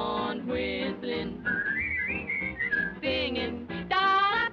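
A person whistles a cheerful melody in an old 1941 musical comedy song, the bright whistled line rising and gliding between stretches of singing over orchestral accompaniment.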